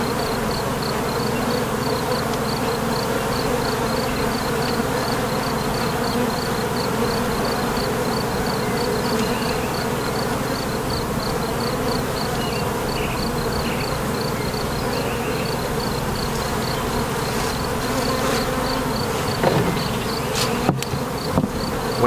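Honeybees buzz steadily around an open beehive, a dense continuous drone of many insects close by, with faint knocks and handling noises near the end.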